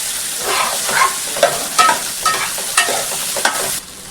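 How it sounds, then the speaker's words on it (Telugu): Okra frying in oil sizzles steadily while a spoon stirs through it in regular scraping strokes, close and loud, before the sound cuts off at the end without any talking. "మనం బెండకాయలన్నీ వేసుకుని కాసేపు ఇలా ఆయిల్లో మగ్గనివ్వండి."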